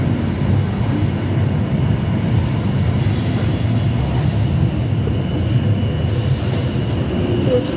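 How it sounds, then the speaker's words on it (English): A metro train passes through Jesmond station on the Tyne and Wear Metro, with a steady loud rumble of wheels on rails and faint high wheel squeal throughout, no talk. "Here's a train."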